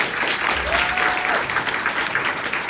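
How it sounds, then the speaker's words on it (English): An audience at a Latinx film festival animation and video game session breaks into warm applause, a dense, continuous clatter of many hands clapping at close range, sustained for the whole stretch with a faint voice underneath. "Let's give them a round of applause."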